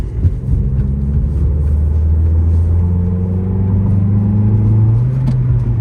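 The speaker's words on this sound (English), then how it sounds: "Shift to third, come out of this turn, give it a little fuel, maybe get her into sixth gear." A 2003 Ford Focus SVT engine pulls steadily from inside the cabin, its drone rising in pitch then dropping and climbing again as it shifts up through the gears while exiting a turn, loud and continuous with no talking.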